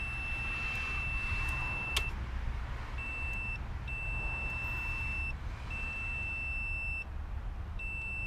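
A multimeter beeps in continuity mode while testing the throttle position sensor on a Nissan 300ZX. It gives a loud, steady electronic tone, then breaks into several longer and shorter beeps over a low background hum.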